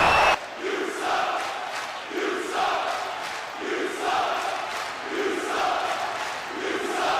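Crowd at an RHW Out of Control wrestling event chanting in rhythmic bursts, a loud sustained roar of many voices with repeated swells about once a second, filling the arena without any single voice standing out.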